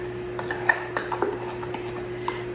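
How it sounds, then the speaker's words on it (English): A utensil scrapes the bottom and sides of a bowl of chocolate cobbler batter, giving a run of light clinks and scuffs against the bowl over a faint steady hum. "Make sure that you scrape the bottom and the sides so that you get anything off of there"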